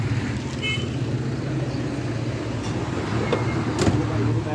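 A modified 1974 Toyota Corona fitted with a 2JZ engine runs at a steady idle, giving a loud, close, continuous low rumble with no break in the drone.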